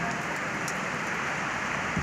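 Heavy storm rain pours down steadily outdoors, a dense, continuous hiss of drops striking surfaces at close range, loud and unbroken with no voices.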